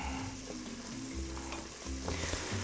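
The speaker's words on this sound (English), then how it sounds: "Just want those onions to saute down for a little bit." Onions sauteing in an Instant Pot, a steady close sizzle and crackle of frying with faint stirring clinks, continuous for a few seconds with no talk.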